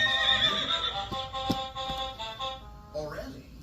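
A voice imitates a mother horse's neigh, a whinnying call that wavers and trails downward, followed by a few soft breathy sounds, heard close and alone while reading a farm animal story aloud to children.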